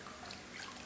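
Warm water pours into a small pool for a dog, a faint, steady, hissing trickle with no voices.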